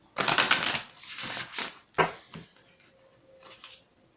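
Tarot cards are shuffled up close in a few short, crisp bursts of riffling and snapping, followed by a quieter rustle.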